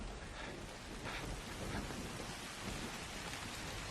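Steady rain falls with a dense, even hiss, soft and continuous for a few seconds, with no voices.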